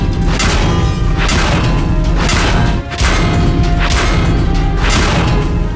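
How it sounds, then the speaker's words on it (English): World of Tanks medium-damage hits on a tank, heard as a loud series of heavy metallic thuds and crashes, roughly seven blows spaced under a second apart over a constant low rumble. "This is the medium damage sound."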